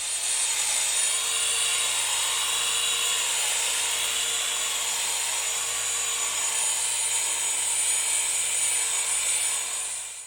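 A buffer polishing a guitar's metal flake finish with Meguiar's compound, a steady high whirring drone running close and loud for about ten seconds without a break.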